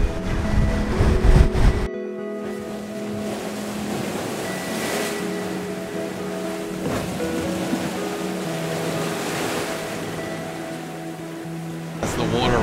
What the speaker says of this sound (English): hearing the waves roll up, against the cliffs here.